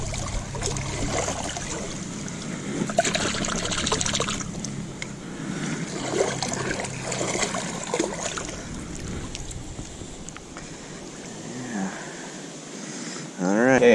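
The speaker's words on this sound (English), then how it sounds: "Let's rinse him off a little bit." Kitchen tap water splashes and trickles over a freshly descaled small fish being rinsed, a steady watery hiss with shifting splashes while people talk over it.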